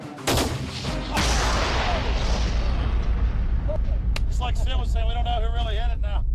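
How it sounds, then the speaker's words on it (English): Simultaneous rifle shots set off a tannerite charge: a sharp crack and heavy boom, then a long rolling rumble and echo, with excited voices talking over the fading blast. "Well, it's a tannerite charge. It should give us a pretty good boom."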